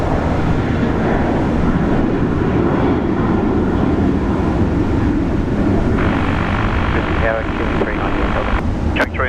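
A jet airliner landing on runway 19 left at Brisbane airport gives a loud, steady engine roar heard from nearby, with wind buffeting the microphone throughout.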